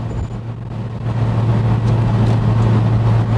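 Steady road hum and low engine drone from a car cruising smoothly and straight on the road, loud and continuous with no talk.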